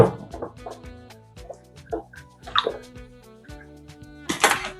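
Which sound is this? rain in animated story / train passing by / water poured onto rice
water poured onto rice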